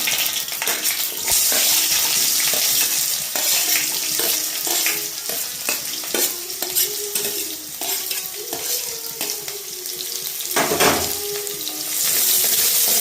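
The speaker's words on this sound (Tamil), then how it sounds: "பொடி பொடியாக நறுக்கி வச்சுருக்கிற வெங்காயம் ஆட் பண்ணிக்கலாம்" Chopped onion and fenugreek seeds sizzle and crackle loudly in hot oil in a pan for a dried anchovy karuvattu kuzhambu, with continuous frying hiss and intermittent clinks and scrapes of stirring, close up and without speech.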